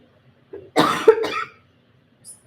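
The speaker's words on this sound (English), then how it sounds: "Just coughed in the microphone." A single sharp cough close to the microphone, a short throaty burst with a brief rasp, then quiet.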